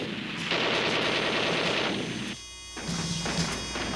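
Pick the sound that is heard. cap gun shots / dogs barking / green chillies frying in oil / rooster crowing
cap gun shots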